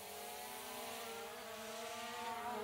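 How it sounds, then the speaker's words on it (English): A TRIPLEFINE TF35 Pro brushless 4K GPS drone hovers and flies outdoors with a steady, faint, high-pitched whine of spinning propellers and motors. The tone stays constant, distant and unbroken, and no one speaks. "So you might fly the drone here west."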